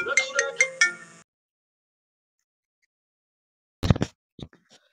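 A mobile phone ringtone plays a bright, bouncy melodic phrase of several quick notes, then cuts off into silence; later a brief rustle and clicks as the phone is picked up.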